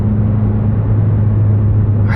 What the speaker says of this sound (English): I wouldn't want to modify this exhaust note any differently.